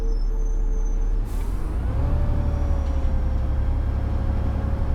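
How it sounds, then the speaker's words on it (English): Continuous engine drone of a bus in the simulator game OMSI 2, with a steady low hum and a brief hiss early on, smooth and constant, no voices. "Can just really appreciate the sounds of the bus."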